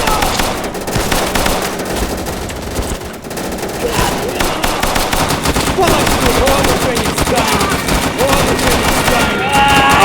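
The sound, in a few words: gunfire in a video game battle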